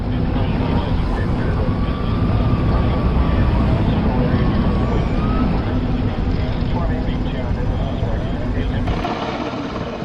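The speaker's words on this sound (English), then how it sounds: "this plane is trying to make an emergency landing during a tornado" A loud airplane engine drones and roars continuously, with a faint whine above, as the plane passes close by attempting an emergency landing during a tornado.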